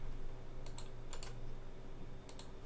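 Keyboard shortcuts typed on a computer keyboard, three quick pairs of crisp key clicks close up over a quiet hum.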